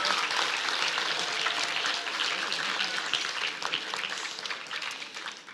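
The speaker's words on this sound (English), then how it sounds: "let's give them specifically an extra round of applause" Audience applause for swimmers at a swim season awards event, a broad steady clatter of many hands in a hall, moderately loud, slowly tapering toward the end with faint voices mixed in.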